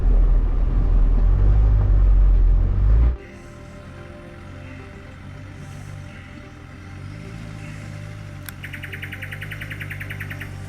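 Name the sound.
Land Rover Defender engine climbing a rocky off-road track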